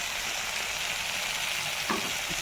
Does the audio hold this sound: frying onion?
yes